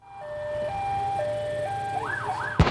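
Police sirens sound during a manhunt, a wailing tone stepping between pitches and then sweeping up and down. It rings out clearly at a moderate distance before an abrupt loud burst at the end.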